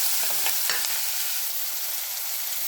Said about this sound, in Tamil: பெரிய வெங்காயத்தை பொடி பொடியாக அரிஞ்சு வச்சுருக்கேன். இது நல்லா கோல்டன் ப்ரௌன் அளவுக்கு நல்லா வதக்கணும்.